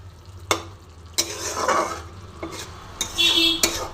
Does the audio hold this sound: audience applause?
no